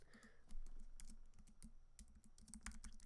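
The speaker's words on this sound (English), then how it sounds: "Sorry for all the typing, guys." Steady, rapid clatter of typing on a computer keyboard during a live podcast stream, close and continuous with dense overlapping key clicks and no talking.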